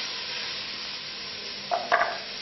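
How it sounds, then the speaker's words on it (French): Tarbais beans go into a pan of sizzling onions and carrots, a steady hissing fry with a couple of brief scraping, clattering bursts near the end, close and moderately loud, no voices. "Une fois que les oignons et les carottes sont terminés, on rajoute les haricots"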